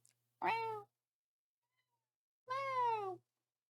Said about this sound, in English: What's wrong, Mayor Cat? Oh, is it that I am not giving you love right now